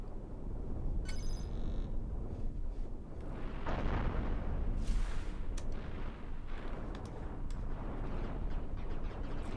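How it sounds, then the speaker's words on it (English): Energy cannons on a UFO ship fire in the space game Cosmoteer, a dense rumbling barrage of booming blasts and crackling bursts that continues throughout at moderate level. "These uh, energy cannons are just insane."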